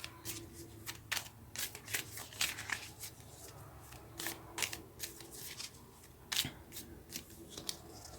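Tarot cards shuffled by hand in a quiet room, a steady run of crisp papery riffles and slaps with a few sharper snaps, close and fairly soft, no talking.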